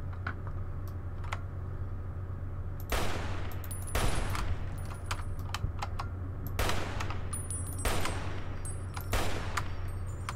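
Bursts of automatic gunfire in Fallout New Vegas, several loud volleys spaced a second or two apart over a steady low hum and background game ambience, with no talking.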